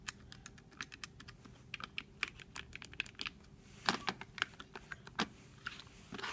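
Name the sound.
pressing buttons on a Retrobit Super Retro SNES controller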